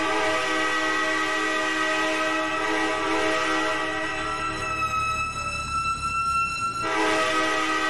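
A fire truck's train horn blares in the EmergeNYC emergency-services game, a loud sustained multi-tone blast that drops out briefly near the end before sounding again, under a low steady engine rumble.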